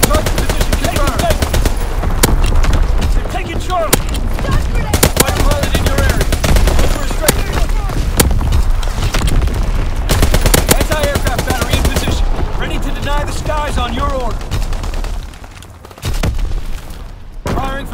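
Rapid machine-gun fire and heavy battery shots rattle almost without pause through a Call of Duty: WWII domination match on the Shipment 1944 map. Loud, dense bursts go on nearly throughout, with game voices calling out over the shooting.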